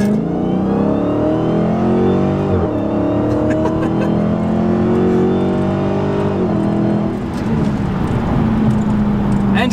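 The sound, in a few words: Dodge Hellcat accelerating in 50 km/h test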